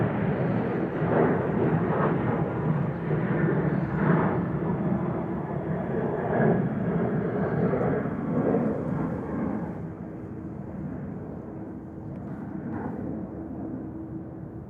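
A jet airliner roars on takeoff from a runway at JFK airport, a broad, steady rumble heard from a distance that slowly eases and thins toward the end.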